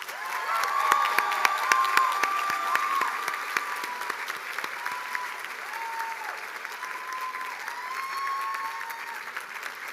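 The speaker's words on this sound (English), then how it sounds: "will you please join me in a big round of applause one more time for our faculty" Big round of audience applause for the faculty at a law school commencement, sustained dense clapping with cheers and whistles in a large venue, gradually easing off.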